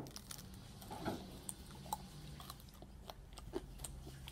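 Someone chewing a crunchy, nugget-shaped apple pie: close, wet bites and sharp crunches at irregular intervals, with small clicks and squishes between them and no talking.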